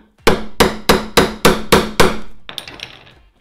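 Seven sharp metallic strikes from the hammer end of CK T3866 fencing pliers hitting a fence staple ring out at a steady rhythm, close and loud, followed by a brief scraping clink.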